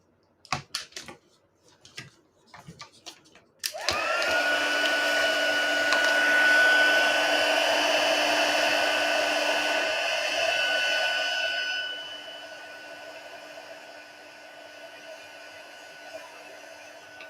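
A few light clicks come first, then a craft heat tool blows with a loud, steady, close whoosh for about eight seconds during snowflake crafting. It fades to a softer hiss toward the end.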